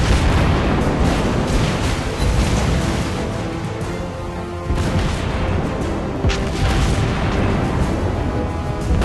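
An enemy warship explodes in a naval battle video game with destroyers, cruisers and battleships. Loud, dense booms and blasts rumble continuously for about nine seconds without a break, and no voices are heard.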